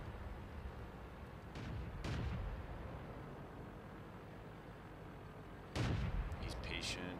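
In a tank video game, cannon shots boom as a few heavy, distant-sounding blasts over a constant low rumble of engine and battle noise, with one louder shot near the end.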